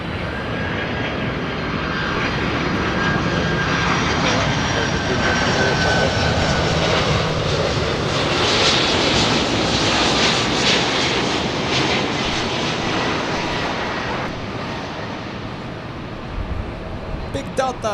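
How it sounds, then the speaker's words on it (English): A Delta Boeing 767 jet airliner comes in to land at LAX, its broad engine roar rising and holding steady for most of the stretch, loud and near, then easing off toward the end. "Delta coming in with the 76."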